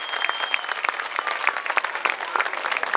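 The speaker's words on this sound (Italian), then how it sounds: "Facciamo un applauso a questo nostro poeta." Audience applause at a kindergarten end-of-year show in Cesa, Italy: steady, dense clapping from a crowd of parents filling the whole stretch, fairly close and even, with a faint high tone drifting through.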